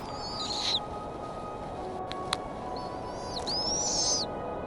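A snowy owl calls in the open Arctic, giving a few high, drawn-out, wavering cries, one early and a louder pair near the end, over a steady rushing wind-like background.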